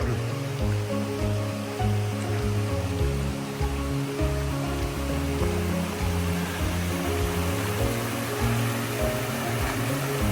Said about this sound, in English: I've crossed this creek or stream at least 4 times now.